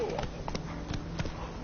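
Roach, a horse in a PS4 video game, gallops with steady clip-clop hoofbeats at a moderate distance, the rhythm repeating evenly throughout.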